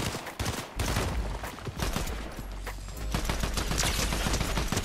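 Rapid bursts of gunfire in the video game Fortnite, dense overlapping shots and automatic fire ringing out loud and continuous for several seconds with no talking.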